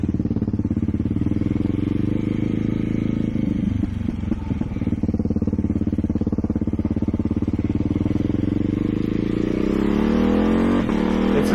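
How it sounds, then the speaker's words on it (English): A Ducati Hyper Motard motorcycle engine runs loud and steady while riding, its throaty note rising and falling as the rider revs through the gears, close and continuous with no talk. "but it sounds, the sound is it's a Ducati"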